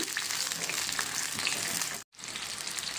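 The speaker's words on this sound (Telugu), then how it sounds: "తుంపుకుని ఆయిల్లో వేసుకుని ఫ్రై చేసుకోవాలి" Green chillies frying in hot oil, a steady close sizzle that cuts out briefly and then resumes.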